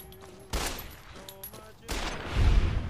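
Gunfire in Fallout New Vegas comes as two sharp, loud bursts about a second apart, the second trailing into a rumbling echo, over faint background game sounds.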